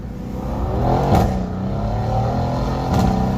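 A tuned Mercedes C63s AMG running a JB4 tune accelerates hard in gear, its engine note rising loud and close, with a couple of sharper surges and no talking.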